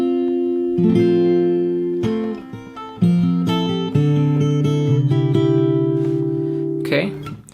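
Fingerstyle guitar with a capo picks the chorus of a song, a steady stream of ringing plucked notes and bass tones lasting several seconds, loud and close with no talking.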